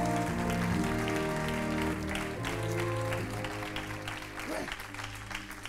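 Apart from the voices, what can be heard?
congregation applauding in church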